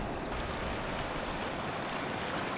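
The Hawdon River rushes past a cold, knee-deep crossing on the way to a snowy backcountry hut, a steady, close, broadband wash of flowing water with no voices over it.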